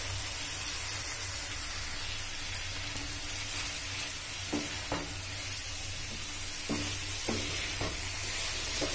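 Broccoli and potato pieces fry in oil in a pan over a low-medium flame, giving a steady, quiet sizzle with a few soft stirring knocks scattered through it. Nobody speaks.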